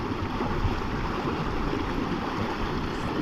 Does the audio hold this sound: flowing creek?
yes